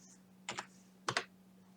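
Two quick pairs of key presses on a computer keyboard, each a sharp double click, separated by a short pause, close and fairly quiet, with a steady low hum beneath and no talking.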